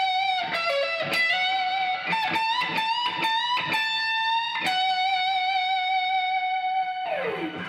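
Electric guitar with gain and effects plays a lead solo, bright sustained distorted notes with quick bends and picked runs, ending in a downward slide, loud and alone.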